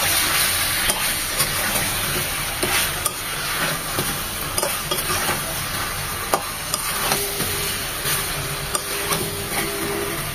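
Chicken and chopped onion sizzling in a pan, a constant close frying hiss with light scraping and occasional clicks of a spoon stirring, no talking.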